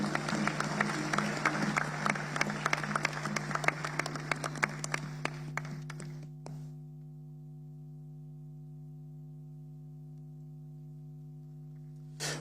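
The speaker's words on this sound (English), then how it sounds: "Round of applause again for our keynote speaker, Professor Atunuke Olusola Adebanji." An audience at an economic seminar applauds after a keynote talk, dense clapping from a hall crowd for about six seconds before it cuts off and only a steady electrical hum remains.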